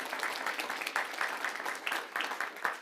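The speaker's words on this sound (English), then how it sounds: "If you'll give her a round of applause." At a school board meeting, the room gives a steady round of applause for a longtime diagnostic speech pathologist, with many hands clapping in a dense, even patter throughout.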